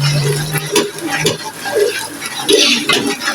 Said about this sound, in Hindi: पर प्याज फ्राई हो रहे हैं।